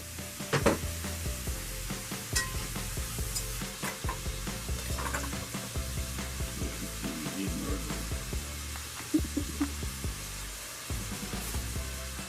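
Onions, sausage and celery fry in a pan for chili, crackling and sizzling close by while a utensil repeatedly stirs and knocks against the pan.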